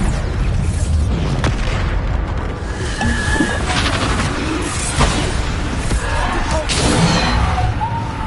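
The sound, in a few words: Bombarda spell explosion in a Hogwarts video game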